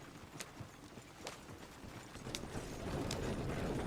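Horse hooves in Red Dead Redemption 2 clip-clop in a steady rhythm at moderate distance, alone over a faint background rumble that swells toward the end.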